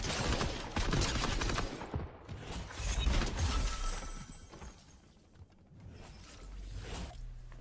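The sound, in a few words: gunfire from weapon combos in the video game Fortnite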